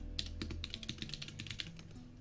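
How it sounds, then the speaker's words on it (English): Computer keyboard typing picked up by a 3Dio binaural mic, a quick uneven run of crisp keystrokes, close and fairly quiet, with no talk over it. "Let me know if you guys can hear the keyboard."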